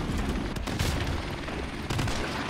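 Dense, continuous gunfire from a Call of Duty match, close and loud, with rapid bursts running through the whole stretch and a couple of brief lulls, mixed with low rumbling battle noise.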